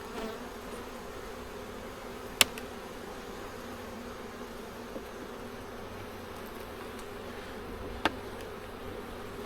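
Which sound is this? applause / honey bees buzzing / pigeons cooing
honey bees buzzing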